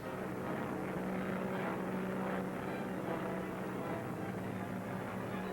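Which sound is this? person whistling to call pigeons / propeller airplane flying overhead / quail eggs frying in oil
propeller airplane flying overhead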